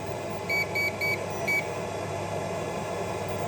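A SUTU 12-to-220 V pure sine inverter under a one-kilowatt load gives four short, high beeps in quick succession over the steady whir of its cooling fan, which keeps running close by.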